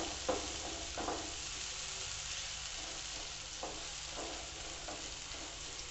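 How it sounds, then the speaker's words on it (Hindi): Chopped tomatoes fry in a pan for masala Maggi, giving a soft, steady sizzle with occasional stirring scrapes, heard close and alone. "आप जे कटे हुए टमाटर वो भी पा दें, इन्हों आप ज़्यादा नहीं भुनना गा"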